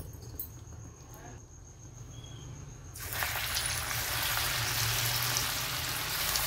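Steady hissing sizzle of mung dal and potato fritters frying in hot oil in a wok, jumping louder partway through as something drops in, with a low hum underneath.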